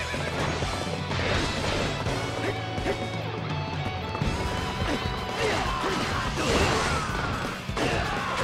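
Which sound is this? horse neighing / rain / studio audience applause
horse neighing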